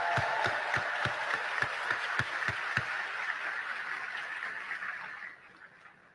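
Ceremony audience applause, a broad wash of clapping punctuated by a steady run of sharp rhythmic claps in unison that stops partway through, the sound then fading out toward the end.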